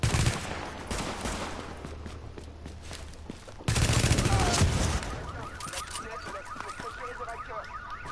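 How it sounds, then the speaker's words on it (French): An M4 rifle firing in burst mode in The Division, with rapid clusters of sharp gunshots up close, followed by quieter rustling, movement and a faint warbling tone. "J'ai une M4 rafale."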